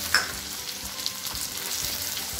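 Green chillies and chopped coriander sizzle in hot oil for a thick chilli chutney, a steady frying hiss with a couple of brief stirring clicks near the start and no talking.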